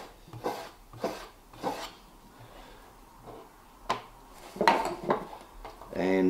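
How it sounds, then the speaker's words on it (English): A knife blade is stropped on leather charged with jeweler's rouge, giving a series of short, close rasping strokes with irregular rhythm, separated by soft rubbing and light clinks. "I strop it up on a bit of Jeweler's Rouge"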